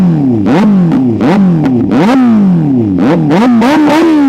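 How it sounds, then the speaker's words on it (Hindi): A motorcycle fitted with a Race Pro titanium exhaust revs loudly and close up in a rapid series of sharp throttle blips, each rising and falling, with a brief pause midway. "अब इसको मैं रैप करके दिखा रहा हूँ। ज़्यादा रैप नहीं करूँगा बिकॉज बहुत ज़्यादा लाउड हो जाएगा यार"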